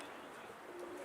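Pigeons coo softly in a rooftop coop, a low continuous murmur of calls under steady background noise.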